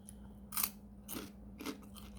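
Crunchy chewing of spicy Thai papaya salad, three short close bites spaced about half a second apart against a quiet background.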